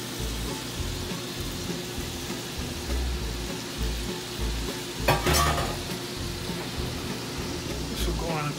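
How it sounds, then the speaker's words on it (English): Spinach sautés in a hot pan for shrimp pasta with a steady, close sizzle and crackle, a brief metallic scrape partway through, while people talk over it. "how long do we saute this for about?"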